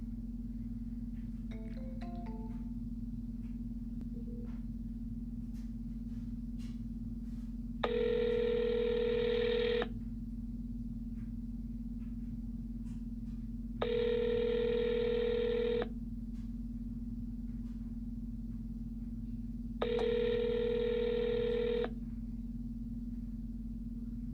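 A phone call rings out as a ringback tone, three evenly spaced two-second rings about six seconds apart, over a steady low electrical hum, before the call is forwarded to voicemail.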